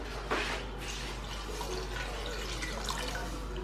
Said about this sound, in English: Let me just add small water.